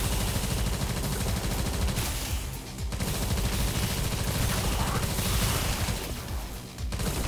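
Continuous dense gunfire in the video game Tesla vs Lovecraft, rapid shots blending into a loud, sustained barrage with brief dips, close and dominant.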